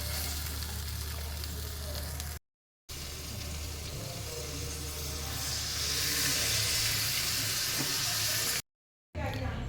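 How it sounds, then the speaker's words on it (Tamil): Tamarind water hits hot, sautéed kolambu masala for an urundai kolambu, giving a loud, continuous sizzle and hiss that swells into a brighter steamy rush midway, with no talking. "இந்த டைமில் நம்ம புளியை கரைச்சி ஊற்றிக்கலாம்."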